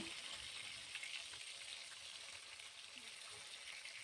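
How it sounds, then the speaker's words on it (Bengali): Tangra fish sizzling as they fry crisp in hot oil, a steady, close, bright crackling hiss that carries evenly throughout with no talk. "আমি মাছগুলোকে একটু কড়া করেই ভেজে নিচ্ছি"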